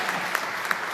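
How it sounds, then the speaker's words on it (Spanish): Congregation clapping during a Sunday Mass in Lent, a brief dense patter of many hands with a couple of sharper individual claps, moderately quiet and steady. "Pues otro aplauso, porque él no lo ha pedido."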